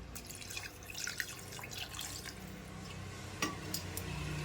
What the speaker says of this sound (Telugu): అంత వాటర్ వేసుకోవాలండి